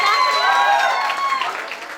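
A crowd at a corporate branch event in Lucknow breaks into loud applause, a dense wash of clapping with cheers that fades slightly over two seconds.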